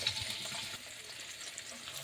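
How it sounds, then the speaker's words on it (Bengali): Fish fries in hot oil in a kadai. A soft, continuous sizzle with light crackling runs quietly throughout, and no one speaks. "আর এই মাছগুলো ভাজা হচ্ছে,"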